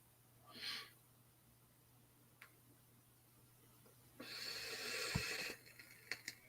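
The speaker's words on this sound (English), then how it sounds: "I had another sneeze." A man sneezes once, a sharp breathy burst standing out from a quiet room, with a smaller huff earlier and a few light clicks afterward.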